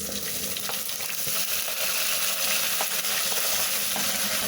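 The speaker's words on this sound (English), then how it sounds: "After your onions start to turn around brown, add your grated garlic, then stir." Browning onions with grated garlic fry loudly in a pan for chicken curry, a dense steady sizzle with small clinks and scrapes from stirring.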